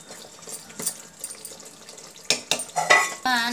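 Water is poured into a pot of Odia-style mutton curry cooking on the stove, a splashing gush that follows faint clinks and stirring, with a louder sizzle and rush of liquid toward the end.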